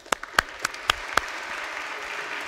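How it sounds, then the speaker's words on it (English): A lecture audience applauds, opening with a handful of sharp, distinct claps that quickly blur into a fainter, steady patter of applause in a large hall. "if we could, a round of applause for these guys here"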